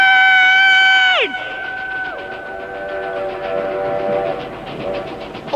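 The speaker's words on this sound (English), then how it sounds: "Train!" A train sounds a loud multi-tone horn that falls away in pitch as it passes, then the rumble and clatter of rail cars carries on steadily along the railway.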